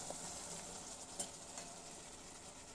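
Stalks and potatoes frying in spiced masala for a village-style curry, a faint steady sizzle with a couple of soft stirring scrapes and clinks.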